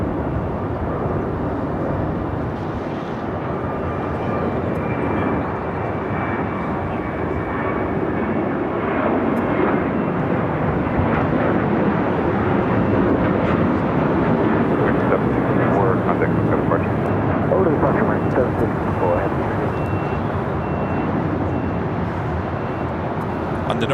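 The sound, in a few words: airliner taking off at Los Angeles airport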